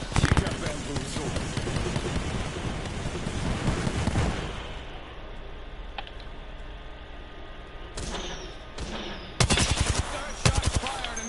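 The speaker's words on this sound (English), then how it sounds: "Shots fired and they're hitting me." Rapid video-game gunfire bursts, loud and dense for the first few seconds, then quieter scattered shots with sharp renewed bursts near the end, mixed with game effects and a talking voice.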